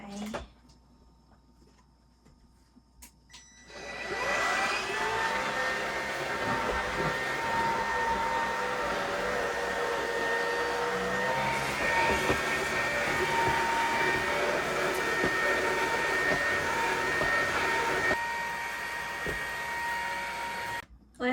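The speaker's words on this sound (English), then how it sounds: "that little bit of vacuuming, it did a good job" A vacuum cleaner runs for a short indoor cleanup, a steady close whine starting after a few quiet seconds and holding evenly until it cuts off near the end.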